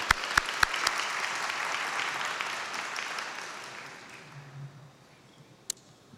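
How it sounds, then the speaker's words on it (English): Conference audience applauding, a burst of clapping with a few sharp close claps at the start that gradually fades away into near silence. "let's give Robert a good hand of applause as well."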